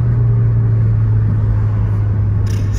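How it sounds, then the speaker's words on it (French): A car exhaust gives off a deep, steady rumbling drone, loud and close, with a brief burst near the end that may be a pop. "Ça pétarade juste comme il faut."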